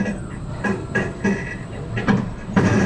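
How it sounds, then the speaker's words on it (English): A Huracan roller coaster train at Belantis, running on a ride with three rows of two seats, engages its vertical lift hill, giving a steady mechanical rumble with rhythmic clunks and clatter repeating through the ride. "Just engaging onto the lift hill."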